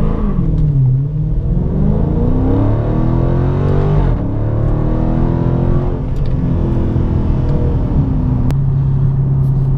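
A car with 485 hp and 475 lb-ft on 245 all-season tires pulls away from second gear on light throttle; the engine drones loud and close, its pitch climbing steadily, with clear shifts near the middle and end.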